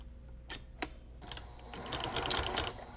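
A sewing machine stitching around the edge of a finished cross stitch piece: a couple of sharp clicks, then a steady fast mechanical whirr of the needle running on to the end.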